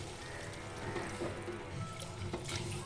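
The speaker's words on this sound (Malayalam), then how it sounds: "ഇവിടെ ഞാൻ അടുത്ത് തേങ്ങാപ്പാൽ ഒഴിക്കുകയാണ്." Coconut milk pours into a pan of thickened, simmering curry, a soft continuous liquid trickle and gentle bubbling, faint and close with no talk.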